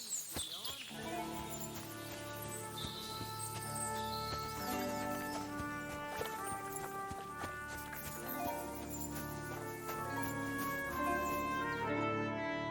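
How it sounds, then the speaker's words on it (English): Horse sounds with hooves clopping from the video game Kingdom Come: Deliverance II, heard faintly under layered music and ambient game sound, with scattered chirps. "Lovely horses."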